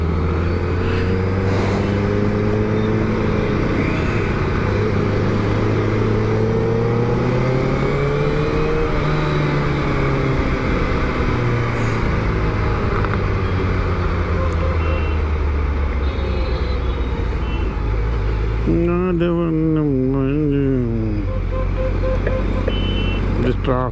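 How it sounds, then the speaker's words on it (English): Road traffic of cars and trucks in Bangalore, a steady loud rumble of engines with reversing-type beeps and passing vehicles, while people talk over it. "This traffic is not good."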